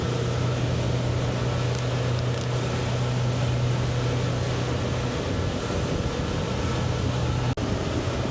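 Twin outboard engines on a 25-foot Sea Hunt Gamefish boat run at sea with a steady droning hum, a continuous low tone over wind and water noise, ending in a brief click.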